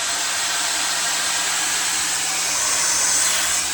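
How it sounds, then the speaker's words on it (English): Hair dryer running steadily, a loud, close whooshing airflow with a high whine that swells slightly louder near the end, as if switched to its higher mode. "when you turn this on, you have two modes. You have a lower mode and a higher mode."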